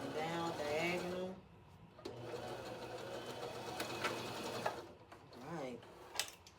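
A sewing machine stitches fabric onto a shirt in short mechanical runs, whirring in bursts with pauses and clicks in between, with a voice talking partly over it.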